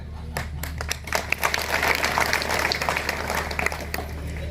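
A large crowd at an outdoor election rally for a district council campaign claps and cheers in a steady, dense wash of applause that holds at an even loudness throughout.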